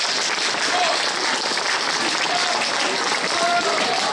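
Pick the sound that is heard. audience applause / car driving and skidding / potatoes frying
audience applause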